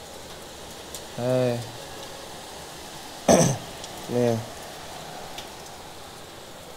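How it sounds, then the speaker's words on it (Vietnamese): Wind and heavy rain from Typhoon Yagi make a steady broadband hiss through the whole clip. A few brief spoken words and a sharp throat-clearing burst are heard over it. "Nếu mà chỉ cần mở cửa ra thôi là sẽ thấy gió và mưa nó ầm ầm ngay."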